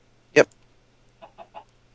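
A video game chicken gives one sharp squawk followed by three soft quick clucks, close and clear against near silence.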